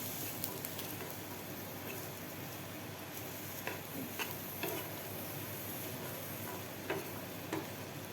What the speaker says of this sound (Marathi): लसूणसुद्धा आपल्याला दोन मिनटासाठी ह्या मिरच्याबरोबर व्यवस्थित भाजून घ्यायचं आहे